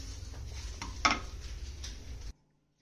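Semolina being stirred as it fries in a pan for halwa, a steady low frying hiss with soft scraping strokes and one sharper utensil knock, close and moderately quiet, then stopping abruptly into silence.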